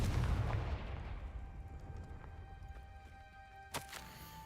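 A Confringo fire spell in Hogwarts Legacy bursts as a loud, booming blast at the start, then decays into a long rumbling tail, with a sharp smaller crack near the end.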